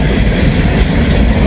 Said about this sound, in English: That's a nice shiny rebuild locomotive if I've ever seen one.